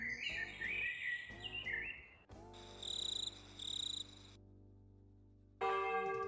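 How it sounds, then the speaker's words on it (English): Chirping birdsong and bell-like tones in the Transport Giant video game, layered with steady ambient hum, some tones cutting in and out. "So true, bird noises."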